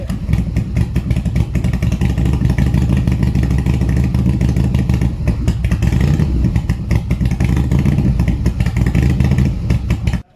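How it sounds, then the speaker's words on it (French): A Harley-Davidson motorcycle engine idles low and loud at the Geneva Supercar Show, giving a steady, throbbing rumble that continues unbroken for about ten seconds before cutting off abruptly. "c'est le ralenti des moteurs à Harley"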